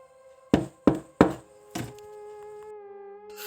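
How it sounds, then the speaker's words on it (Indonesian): A door in a horror story is knocked on four times, three sharp close raps and then a softer fourth, against a faint eerie hum and a whining tone. "Ketukan itu terdengar lagi."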